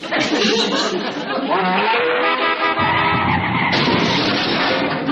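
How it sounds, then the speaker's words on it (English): Car tires skid and squeal continuously, loud and close, as a dog chases passing cars, with some faint chatter mixed in. "He's chasing cars again."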